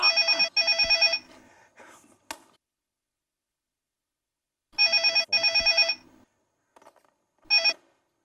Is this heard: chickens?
no